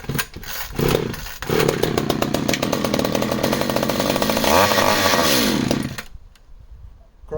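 An old chainsaw engine with solid-state ignition fires on old fuel, a loud, buzzing, sputtering roar that runs for about six seconds before cutting out abruptly into near silence.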